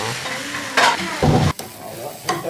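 Eggs are stirred in a hot pan for kothu parotta, with scraping spatula strokes over a steady sizzle, close and fairly loud, and no talking.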